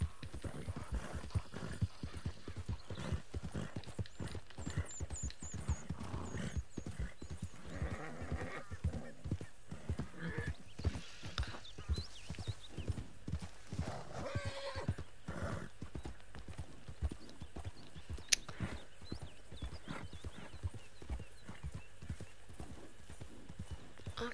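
A horse in the Red Dead Redemption 2 video game gallops with a rapid, steady clip-clop of hooves for the whole stretch, with occasional neighs over the hoofbeats.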